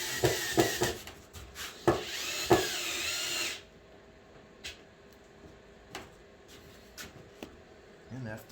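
A power drill drives stainless steel feet into a wooden cutting board in short whirring bursts with clicks and knocks, followed by quieter handling taps and scattered sounds.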